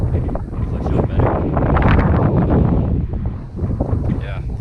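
Strong wind buffets the microphone in a loud, continuous roar with gusty swells, close and rough throughout, on a foggy hiking trail in Crawford Notch.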